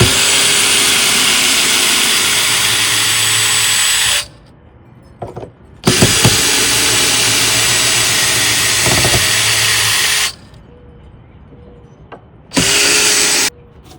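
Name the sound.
power drill backing out deck board screws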